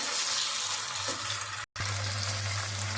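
Turmeric goes into a hot oil tempering of mustard seeds, cumin, urad dal, curry leaves and coriander, which sizzles and crackles steadily up close; the frying cuts out for a moment, then resumes with a low steady hum underneath.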